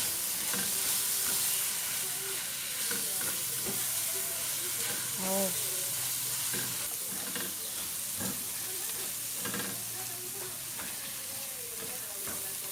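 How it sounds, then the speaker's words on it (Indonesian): A spice paste with lemongrass, ginger and galangal sautés in a pan for buffalo-meat tongseng, giving a continuous moderate sizzle with scattered clinks and scrapes of stirring, at a fairly low level. "Kemudian tumis kembali bumbunya hingga benar-benar matang dan harum."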